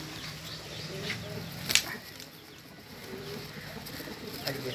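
Pure Andhra-breed pigeons coo softly at close range, with a low rolling murmur, a brief flutter of wings near the middle and faint background noise.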